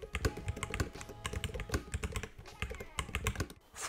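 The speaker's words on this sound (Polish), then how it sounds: "Przy użyciu slangu klawiaturowego określiłbym jej dźwięk jako wysokotonowy klak." Rapid high-pitched clacking keystrokes from a gaming mechanical keyboard (Melgeek Mate 68 Pro), typed in a steady quick rhythm, close and fairly loud with no talking.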